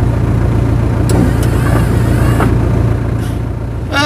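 A low, steady engine hum from vehicles stuck in a traffic jam near Malico, Nueva Vizcaya, loud and close throughout, with a few faint clicks and knocks over the drone.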